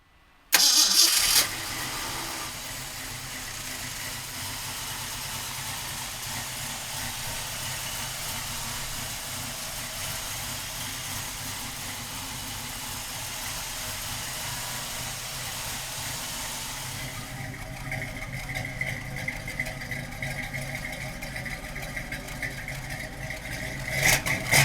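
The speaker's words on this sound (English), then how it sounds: "we're gonna fire this 390 up for you right now" A 1968 Ford Mustang Bullitt S-code with a 390 V8 cranks and catches almost at once, then settles into a steady, close, rumbling idle that roughens and rises slightly near the end.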